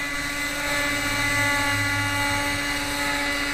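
A .18 nitro RC helicopter engine screams at a steady high pitch with a buzzing rotor drone, loud and close, holding constant throughout with no talking.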